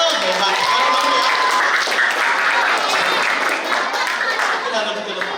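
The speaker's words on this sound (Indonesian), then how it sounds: "kasih tepuk tangan dulu dong" At an Easter school event in Tasikmalaya, Indonesia, a crowd breaks into loud, dense, continuous applause close by, with cheering and voices blended in.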